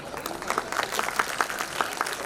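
Audience applause at a poetry gathering marking Maharana Pratap's 485th birth anniversary, held by a Mewar community group in Mumbai: steady, moderately loud clapping from a crowd that continues evenly throughout.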